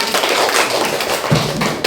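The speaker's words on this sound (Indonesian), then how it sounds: "Oke, tepuk tangan semuanya." Children clap their hands together in a classroom, a steady loud patter of many palms close by that runs throughout without pause.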